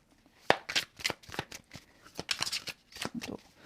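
Tarot cards handled during a reading, giving a run of crisp papery snaps and riffling flicks in irregular bursts, close and fairly quiet with short pauses between them.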